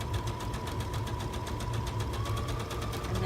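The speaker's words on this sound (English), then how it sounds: "do the zigzag stitch all the rest of the way down" A sewing machine stitching zigzag on fabric, a close, steady rapid mechanical chatter with an even pulsing rhythm throughout.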